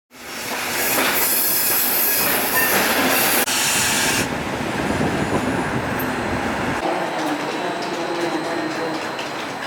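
Loud, continuous rumble of trains at a railway station in Budapest, Hungary, wheels squealing and clattering over the rails, with a dense wash of mechanical noise.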